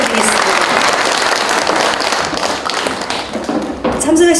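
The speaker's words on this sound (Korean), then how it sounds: "여러분 다시 한번 큰 박수 부탁드리겠습니다" A hall audience applauds at a concert and business-agreement ceremony: dense, steady clapping fills the clip, with a voice faintly present beneath it.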